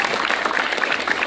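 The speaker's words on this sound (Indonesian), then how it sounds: "tepuk tangan" Students at a junior high school assembly applaud, giving a short, lively burst of dense group clapping that sounds close and fills the whole moment.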